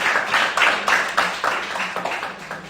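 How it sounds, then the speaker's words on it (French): A church congregation claps to welcome visitors during a service, a dense run of hand claps rising and falling in loose bursts at moderate volume. "nous pouvons quand même applaudir pour les souhaiter les bienvenus"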